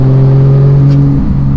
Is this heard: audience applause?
no